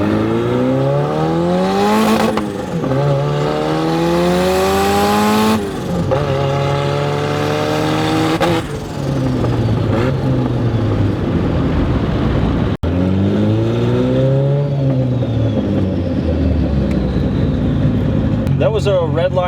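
Holset-turbocharged Datsun 240Z engine at wide-open throttle, loud and close, its note climbing steadily toward red line in repeated rising pulls with brief drops at each shift or lift, a short click near the end.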